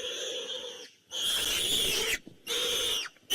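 A big male warthog screams while lionesses catch it on a hunt in the Maasai Mara, Kenya: loud, harsh, wheezing squeals in long bursts broken by short gasping gaps, close and alone.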